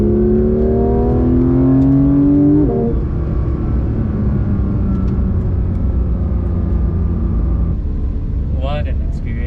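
A Porsche 911 GT3 engine revs hard on a race track, its pitch climbing through gears before dropping on a shift, then droning steadily under load, loud and close.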